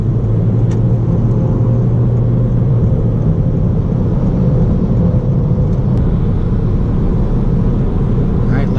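A 2019 Toyota Corolla hatchback driving on the road, a continuous loud low rumble of engine and road noise from inside the cabin.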